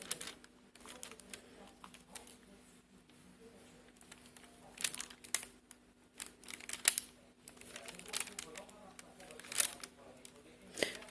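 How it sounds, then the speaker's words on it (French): Plastic packaging crinkles and rustles close by during diamond painting embroidery work, in irregular bursts of crackling that grow denser and louder toward the end, with a faint steady hum underneath. "Désolée pour le bruit du plastique."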